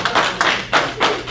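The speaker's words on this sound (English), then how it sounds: "I thought you would clap" Four short bursts of hand clapping from a church congregation at a sermon, evenly spaced about a third of a second apart, broadband and fairly close, with no voices.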